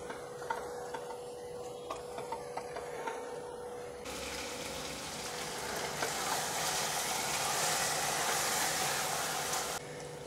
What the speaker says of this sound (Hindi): सभी चीज़ों को मिलाकर 1 से 2 मिनट के लिए भून लेंगे हम ताकि मसाले भी थोड़े से भून जाए कीमे के साथ।